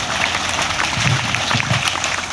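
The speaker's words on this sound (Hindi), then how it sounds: "तालियों से स्वागत की जाए।" An audience claps to welcome a team at a live event, a dense, steady wash of applause that holds from start to finish.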